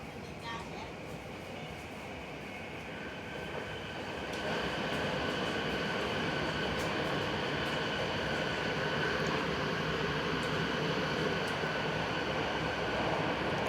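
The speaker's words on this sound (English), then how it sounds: "that other train is going by too" A passing train rumbles steadily near a train in the Netherlands, heard from on board; the roar swells partway through and holds loud to the end.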